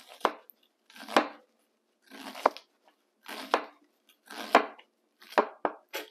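A knife strips kernels off a corn cob in seven crisp, separated cutting strokes with short crunchy scrapes, close and fairly loud, spaced about a second apart with quiet gaps between.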